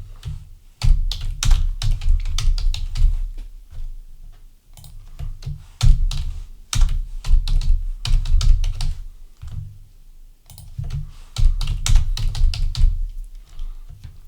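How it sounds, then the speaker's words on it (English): Rapid typing on a computer keyboard during a PC software training session, with dense bursts of close key clicks separated by short pauses, alone. "simply type the text in the field to add it."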